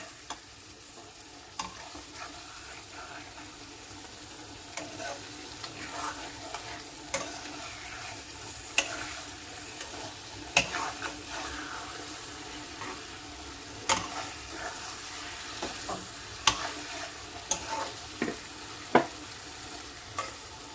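Sliced pointed gourd frying in a pan and being carefully turned, a steady low sizzle broken by scattered clinks and scrapes of the utensil throughout, close and fairly quiet.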